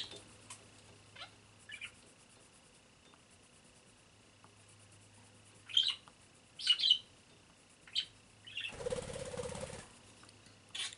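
A pet parakeet gives scattered short chirps and tweets, faint and close, spaced irregularly over a quiet room with a low background hum and a brief rustling burst near the end.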